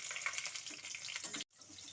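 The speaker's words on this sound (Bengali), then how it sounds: "এখন দিয়ে দিচ্ছি আমি চেরা কাঁচা লঙ্কাগুলো।" Slit green chillies frying in a hot oil tempering of cumin, dried red chilli and bay leaf, a faint, close, crackling sizzle that cuts off abruptly for an instant and resumes, with no voices.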